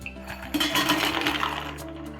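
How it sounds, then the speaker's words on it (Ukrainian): Walnuts tumble into a pot of boiling water on a stove, a rattling, splashing clatter with bubbling close by, lasting about two seconds without talk. "Я вже закип'ятила воду, сюди висипаю наші горіхи"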